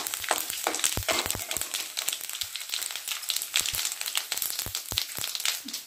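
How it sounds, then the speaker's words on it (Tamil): Fennel and cumin seeds crackling in hot oil with urad dal while making onion rice, a steady close sizzle with sharp irregular pops throughout. "நல்லா பொரியுது. இப்போ சோம்பும் ஜீரகமும் சேர்த்துடலாம்."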